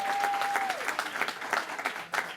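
Audience applause at a poetry slam competition, a dense steady wash of many hands clapping throughout, with a brief tone fading early and no talk over it.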